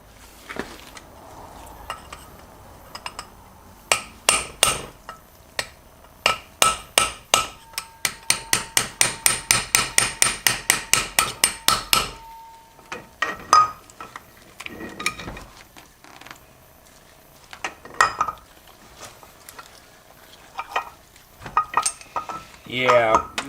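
A hammer stakes a bushing during a rebuild of a C6 transmission from a 1980 F-350 service truck, giving sharp metallic blows close by, first spaced, then a fast steady burst, then irregular strikes with pauses.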